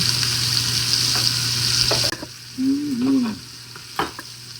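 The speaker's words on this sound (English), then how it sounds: "We're just gonna fry that up." Pork taco ingredients fry in a hot pan with a loud, steady sizzle, broken by a few sharp utensil scrapes and knocks as the food is stirred.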